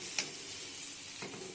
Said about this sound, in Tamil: இது போட்டு கிண்டுங்க